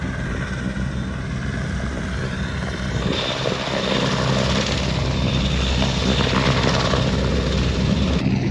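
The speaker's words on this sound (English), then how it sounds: "Ooh, it's a chopper." Loud, continuous helicopter rotor and engine roar, close and steady throughout, swelling slightly as it passes overhead.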